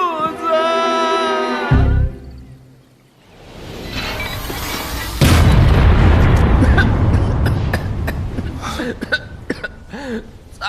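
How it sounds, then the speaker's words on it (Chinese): An alchemy pill furnace bursts apart in a Chinese fantasy animation, a loud broadband blast with a sustained roaring rumble and crackling debris after a short lull, following a brief stretch of voice at the start. "咋又炸炉了？"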